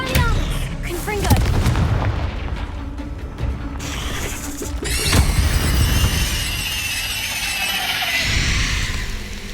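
Confringo fire-blast spells exploding in the Hogwarts Legacy video game, a run of sharp booming blasts and crashes mixed with combat effects and bursts of voice.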